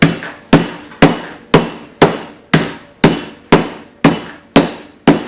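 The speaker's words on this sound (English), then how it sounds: "So you can always use a meat pounder." Eleven sharp, evenly spaced pounding blows of a meat pounder crushing pork rinds in a kitchen, each strike loud and close with a short ringing decay, steady rhythm about twice per second, no voices.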